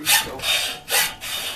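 A hacksaw being pushed and pulled by hand through material, giving four rasping strokes in a steady back-and-forth rhythm, loud and close, with a brief spoken word at the start.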